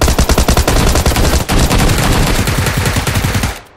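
Rapid automatic gunfire in PUBG Lite: a loud, close, fast stream of shots that runs unbroken for about three and a half seconds and then stops.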